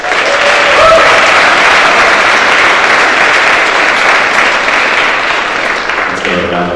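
A school assembly crowd applauds a student's award, steady full clapping throughout that fades near the end as a voice begins to speak.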